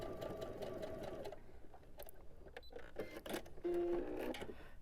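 A sewing machine stitches a flying geese quilt block slowly, with short bursts of mechanical whirring separated by pauses and clicks, then a brief higher whine near the end.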